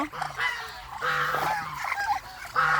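Loud, nasal quacks and honks from several ducks nearby at night, overlapping in short bursts with brief pauses between calls.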